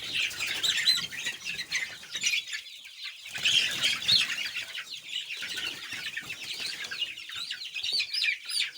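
Chickens clucking and chirping steadily inside a chicken house holding young brooded birds, a dense, continuous chorus of close calls with some wing flapping and no talking.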